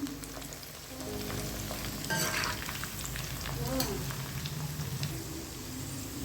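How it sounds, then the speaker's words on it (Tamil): Chana dal pakoda fritters sizzle steadily in hot oil as they fry toward golden brown, a soft, continuous crackle and bubble with occasional sharper pops and faint stirring clatter, no voices. "நல்லா கோல்டன் ப்ரௌன் கலர் வர வரைக்கும் இதை நம்ம வந்து பொரிச்சு எடுக்கணும்"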